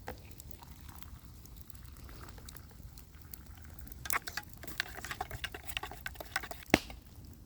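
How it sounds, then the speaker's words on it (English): Water boils in a pot over a campfire outdoors, a soft, continuous bubbling patter close by that grows busier with sharp pops and crackles toward the end. "Yep, that's boiling."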